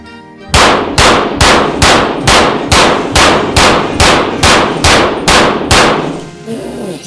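M1 Carbine rifle fired in a fast string of about eleven loud, sharp shots at an even rhythm, each with a short ringing decay, close by and without talk.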